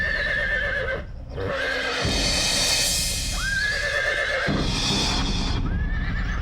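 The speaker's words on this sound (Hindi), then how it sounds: "कमाल है, ये घोड़ा तो उसके इशारों पे चलता है।" A horse whinnies loudly several times in a devotional drama scene about Shani Dev, with rising and falling neighs standing out clearly against background music and no speech.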